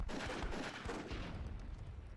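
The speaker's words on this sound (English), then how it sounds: "that cannon getting some more kills against Xenophon" Cannon fire in a team video game battle, a rapid run of booming shots layered over a dense, rumbling din of combat.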